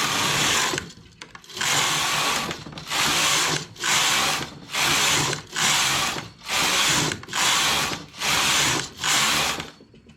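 A domestic knitting machine works ten rows of yarn for a baby's hat, its carriage whirring loudly in long, even passes, each a steady mechanical rush cut off by a brief pause, repeating rhythmically.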